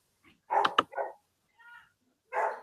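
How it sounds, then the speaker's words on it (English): Puppies barking and yipping in the background indoors, a few short bursts of high barks with gaps between them. "Oh, there goes the puppies."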